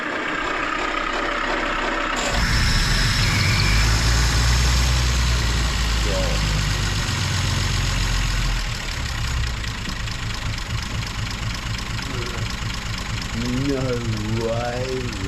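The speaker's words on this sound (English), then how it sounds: "Because it just sits there idle, you can balance a like penny on top of it" A rebuilt Austin Ten six-cylinder engine starts up and settles into a smooth, even idle close by. The low rumble runs steady for the rest of the clip while people talk over it near the end.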